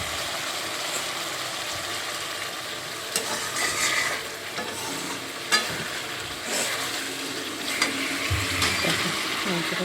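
Meat sautéing with spices in a pan, a steady sizzle with scraping stir strokes and occasional clinks of a utensil against the pan, close and fairly loud, no voices.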